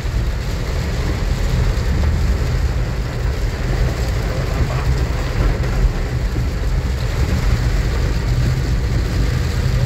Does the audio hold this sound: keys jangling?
no